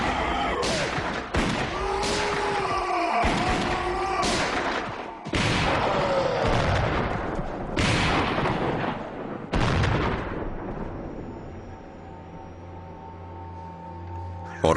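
Rapid gunfire from soldiers shooting into a cave, dense volleys of echoing shots and booms that pound on for several seconds, loud and close, then thin out near the end.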